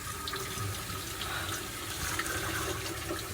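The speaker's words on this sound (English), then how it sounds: "we're going to fill the gray tank with just water" Cold city water from a hose pours steadily into an RV's grey tank through the sink drain, a continuous rushing, gurgling fill at close range with no talking.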